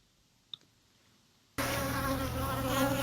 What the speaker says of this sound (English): In this video, you can see that the bees are drinking, grooming, socializing.